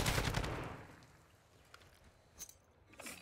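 Bursts of gunfire crackle in a quick volley that fades, then a few sharper isolated shots follow, fairly quiet and distant, with no voices.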